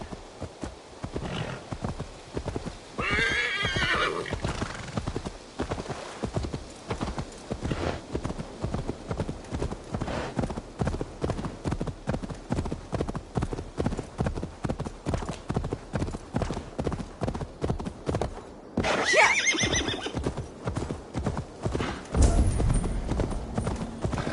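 A horse in the Assassin's Creed Valhalla game trotting with steady, even clip-clop hoofbeats throughout, with a couple of neighs and whinnies over the rhythm, close and moderately loud.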